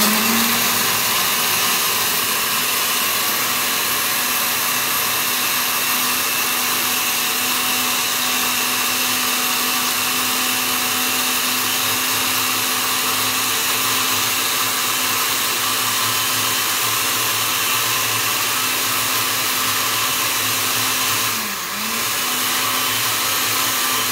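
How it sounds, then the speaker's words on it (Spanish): A kitchen blender runs steadily for the whole stretch while making stuffed rolls, a loud continuous motor whir with a steady hum that dips briefly near the end before carrying on, with no talking over it. "Vamos a licuar."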